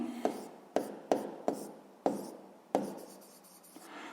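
A pen writing down a maths answer on paper, seven short scratchy strokes with a faint trailing scrape, close and quiet with no talk.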